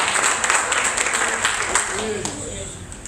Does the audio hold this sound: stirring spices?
no